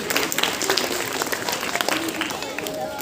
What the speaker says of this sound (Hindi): इनके लिए फिर से जोरदार ताली बजाई जाए।